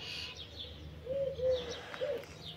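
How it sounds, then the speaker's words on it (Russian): Starlings sit nearby and give faint, brief chirps and soft warbling calls in a few short bursts over quiet outdoor background hiss. "Скворцы сидят."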